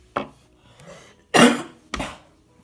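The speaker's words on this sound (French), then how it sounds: "je tousse un peu" A few close, dry coughs from a woman who is a little sick, three separate bursts with short pauses between them in a quiet room.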